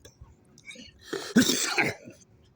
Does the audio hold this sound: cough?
yes